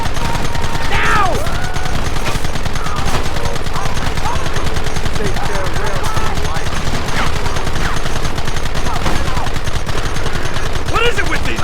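Relentless rapid gunfire in Red Dead Redemption runs loud and unbroken through the whole stretch, with shouting voices mixed into the barrage.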